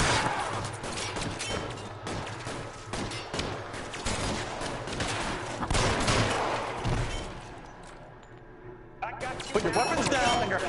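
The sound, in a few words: gunfire in the video game LA Noire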